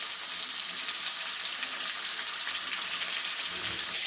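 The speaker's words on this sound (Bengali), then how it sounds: "এই তো মাছ ভেজে নিচ্ছি এখন।" Fish frying in a pan in a home kitchen, giving a steady, even hiss of oil sizzle throughout with no voices over it.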